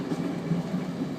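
A train rolls into a siding at Okitsu Station in Japan, a steady low rumbling hum of wheels and motor heard from inside the cab, with no distinct clacks.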